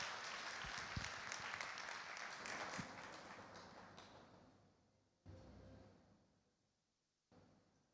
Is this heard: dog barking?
no